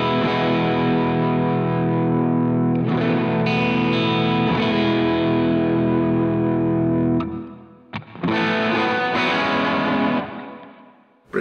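Electric guitar played through an effects pedal on a pedalboard, a sustained distorted, chorus-tinged tone ringing for about seven seconds, a brief pause, then renewed strummed chords that fade at the end; loud and alone, no talk.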